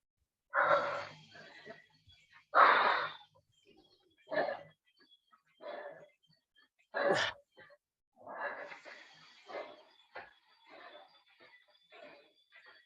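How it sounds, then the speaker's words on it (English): Ragged, heavy breaths come in bursts with pauses between them, close and fairly loud, some sounding wheezy and strained. "Try and get your breathing under control."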